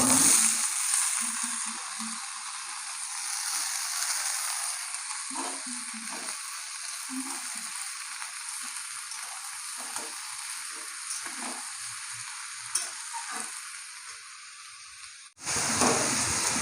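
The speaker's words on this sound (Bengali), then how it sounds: "এগুলো আমি তেল দিয়ে ভালো করে ভেজে নেবো" Ash gourd pieces and potatoes fry in oil in a pan with a steady, close sizzle and occasional stirring, cutting off abruptly near the end.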